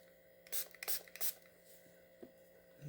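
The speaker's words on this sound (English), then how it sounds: "Alright, let's give this a spray." An aerosol can gives several short hissing bursts over a domed resin coaster, three close spritzes in quick succession then a fainter one, fairly quiet against a low background hum.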